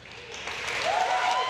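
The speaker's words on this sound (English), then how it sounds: "Although I appreciate the applause" Audience applause fills a closing ceremony of the 2016 Special Olympics Ontario Spring Games, a steady, dense clapping from a large crowd that swells slightly louder toward the end.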